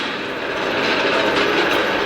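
A train passes nearby with a loud, continuous rushing rumble that holds steady throughout, with no talk over it.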